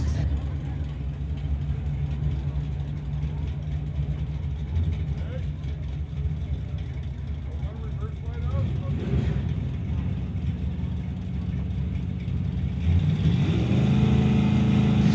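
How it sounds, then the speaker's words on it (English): Two Ford Mustangs, a fastback and a standard coupe, launch off the line in a street-legal drag race, a steady loud engine roar that swells into rising revs near the end, with a commentator talking over it. "Mustang versus Mustang, fastback versus normal. Look at them take off, those front ends lifting."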